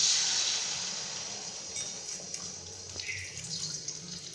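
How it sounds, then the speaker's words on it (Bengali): Beaten egg poured into hot oil in a wok for a Bengali-style Maggi omelette gives a broad, bright hiss that starts loud and slowly fades, with a few faint spatters and soft clinks near the end and no talking. "এবার আমি কড়াইতে ডিমটা দিয়ে দেব।"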